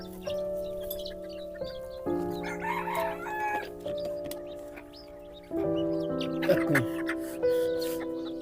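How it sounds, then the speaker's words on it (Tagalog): Bantam chickens cluck and a bantam rooster crows nearby in a few drawn-out calls, with steady background tones and occasional rustling. "Manok din na bantam chicken din or dwarf na chicken."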